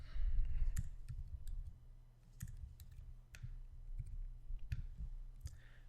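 A computer mouse clicking during a coding session, with sharp, close, isolated clicks spaced irregularly over a low steady hum.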